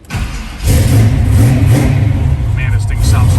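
A 1969 Chevrolet Camaro engine cranks and catches, then settles into a loud, rumbling rev that stays strong and close, with a brief dip before climbing again.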